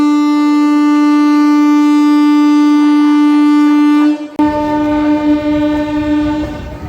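The Vikrama Simhapuri Amaravathi Super Fast Express sounds a loud, sustained horn at Singarayakonda station for about four seconds, then cuts off as rumbling carriage noise carries on.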